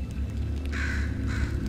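A crow in the video game Portal 2 gives two harsh, raspy caws close by, one after the other, over a low steady background hum.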